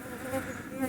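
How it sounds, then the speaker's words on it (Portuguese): Euglossine orchid bees hover around a Mormodes sinuata orchid, their close, steady buzzing filling the moment without any talk. "vocês estão vendo essa planta aqui, com essas abelhas euglossas aqui, ó, voando aqui"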